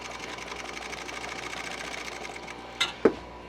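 A sewing machine stitches a pleat in an upholstery panel for a Model A interior, running in a steady fast rhythm close to the microphone, then ending with two sharp clicks.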